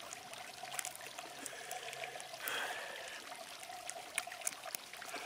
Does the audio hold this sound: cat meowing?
no